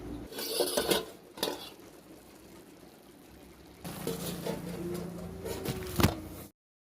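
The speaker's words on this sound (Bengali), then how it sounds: "আমি এখন আবার ডাকটা খুলতেছি।" A cooking-pot lid lifted off a pot of simmering eggplant and tomato chutney, with clattering metal knocks at the start, then a quieter stretch, and more scraping, clinking pot sounds before it cuts off.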